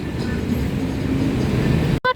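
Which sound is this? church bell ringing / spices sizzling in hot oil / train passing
train passing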